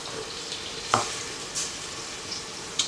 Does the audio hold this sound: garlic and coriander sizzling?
yes